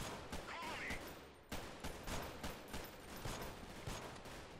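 Sustained gunfire crackles through a battle in the video game Freeman: Guerrilla Warfare, with dense overlapping shots and bursts in a rapid, steady stream and no pause.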